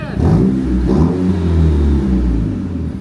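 Acura Integra engine revving with no exhaust fitted, a loud raw rumble swelling and easing over a few seconds, close and steady with harmonic drone, no talk.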